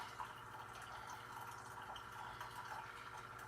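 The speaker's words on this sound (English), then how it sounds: "So the coffee's brewing." A Mainstays coffee maker brewing, giving faint, steady gurgling and trickling of water with a soft hum underneath, quiet and continuous with no voices.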